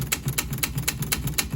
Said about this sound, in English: if we wanted to continue typing, we would press the margin release key, and you'll see the carriage advance one character